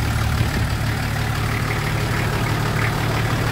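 Nissan Safari engine idling after a repair, a steady low rumbling drone with an even, unchanging throb, close and continuous.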